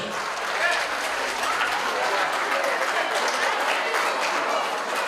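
A wedding hall audience applauds, dense sustained clapping from many hands filling the room at a steady loud level for the whole stretch.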